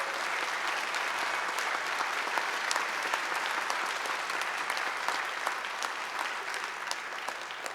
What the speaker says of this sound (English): A big round of applause for our graduates,